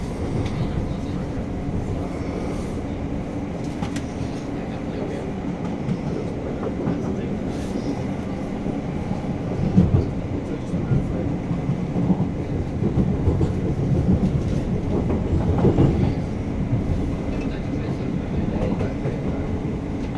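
A Class 350 electric train passes on the adjacent line near London Euston, a sustained rumble with rhythmic clatter heard from inside a moving carriage, swelling and fading over about twenty seconds.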